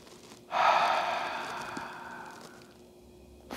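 One long, steady exhale through the nose or mouth during a breathing exercise, close and breathy, rising sharply then slowly fading over about two seconds with a brief inhale at the end.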